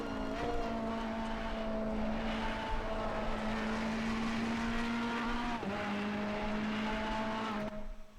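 Ferrari 488 GT3 engine droning loudly at steady revs in Assetto Corsa Competizione at Zandvoort, pitch stepping down with a gear change near the middle and another near the end, no talk over it.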